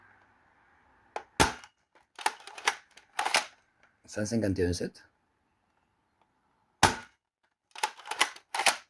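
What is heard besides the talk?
Dart Zone Stryker blaster firing long darts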